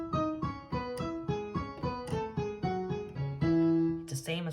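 Short piano phrase from a theme, a dozen or so evenly paced notes struck one after another up close, ending on a held note followed by a brief clatter.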